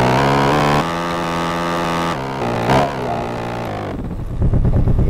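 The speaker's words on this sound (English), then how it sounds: "hold on, my bike's moving" A dirt bike engine in the Roblox video game, a steady droning hum that shifts pitch a few times before a rougher revving rise at the end.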